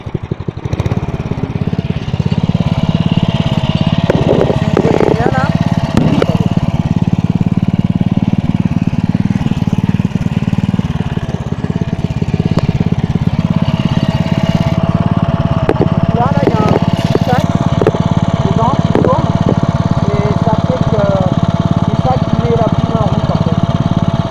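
A Staub 7000 walk-behind tractor engine idles steadily up close with a loud, continuous low drone, while someone talks over it and the gearbox is shifted into first gear.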